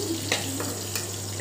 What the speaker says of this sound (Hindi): 3-4 दालचीनी के टुकड़े, 2 हरी इलायची और 4-5 लौंग डाल कर एक तो भून लूँगी।